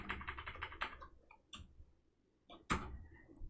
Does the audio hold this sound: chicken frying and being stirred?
no